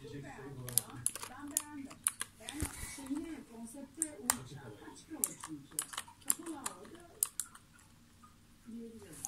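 Typing on a Rampage KB-R77 mechanical keyboard with blue switches gives sharp, clicky keystrokes in irregular bursts, close and distinct, while someone talks intermittently over them.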